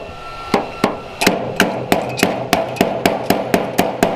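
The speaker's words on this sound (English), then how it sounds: "Tap your metal down." Hammer tapping car body metal down before finish welding, about fourteen sharp metallic strikes in a steady, slightly quickening rhythm, close and clear with no talk.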